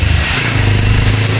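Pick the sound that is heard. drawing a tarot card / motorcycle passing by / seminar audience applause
motorcycle passing by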